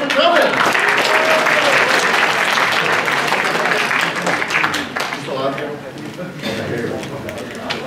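A crowd applauds loudly and steadily at a live performance event, the clapping continuous and dense before thinning slightly toward the end, with a voice speaking over it.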